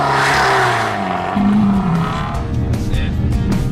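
Ferrari Challenge race car at Brands Hatch launching hard from a standstill, engine note climbing loud and close through rising revs, with a brief gear-change dip and tire noise.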